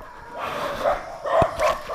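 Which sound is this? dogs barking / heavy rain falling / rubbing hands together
dogs barking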